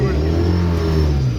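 A car revving and accelerating during a driving lesson with a dad, engine drone steady and close with rising harmonics, a voice talking over it.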